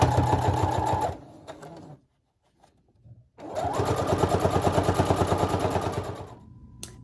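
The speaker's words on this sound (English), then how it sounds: "folding this edge over about 1/2 inch and sewing it down really close to the edge" A sewing machine stitches down a folded fabric casing about half an inch wide along the edge of a cloth face mask. Two steady, loud runs of rapid mechanical stitching are split by a quiet pause, with no talking.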